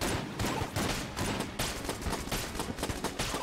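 Rapid bursts from the Big Iron gun in Enter the Gungeon fired at a Lead Maiden enemy, a dense run of loud, closely spaced blasts in uneven clusters with no speech.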